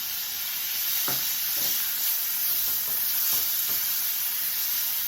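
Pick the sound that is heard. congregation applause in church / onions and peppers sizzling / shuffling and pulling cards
onions and peppers sizzling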